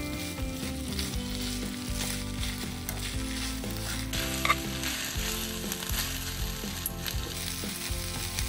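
Bracken and taro stems stir-fry in chili oil for a Korean yukgaejang beef soup, giving a steady, close, loud sizzle with scraping stirring throughout, no talk.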